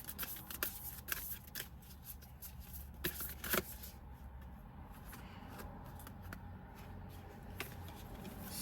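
Tarot cards are shuffled by hand in a series of quick riffles and soft slaps, close and fairly crisp, with short pauses between bursts and no voices.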